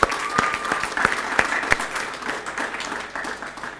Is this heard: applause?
yes